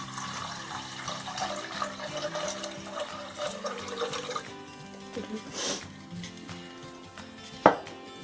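Water pours from a vessel into rice in a pressure cooker, a gurgling, splashing stream that builds and shifts over several seconds, close by, ending with a sharp knock of the vessel.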